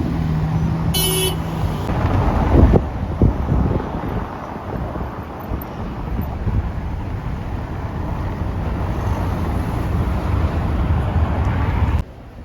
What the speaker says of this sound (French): Magnifique Aston Martin, DBS Superleggera.